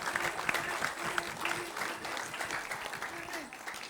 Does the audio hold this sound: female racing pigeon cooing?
no